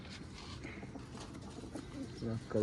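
Pigeons of a racing breed coo softly in a low, throaty rhythm, with several birds murmuring together and other background noise. A louder burst comes near the end.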